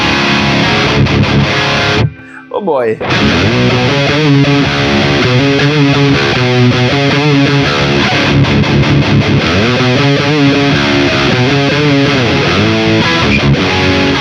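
Heavily distorted electric guitar through a Boutique Tones MT15 high-gain amp preset chugs and rings out loud and thick, with a short gap near the start where a voice briefly exclaims.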